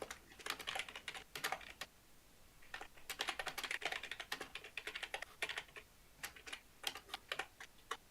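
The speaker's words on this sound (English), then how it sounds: "I was typing in a completely unrelated server" Rapid keystrokes on a computer keyboard come in bursts with short pauses, a close, steady clatter of clicking keys with no voices over it.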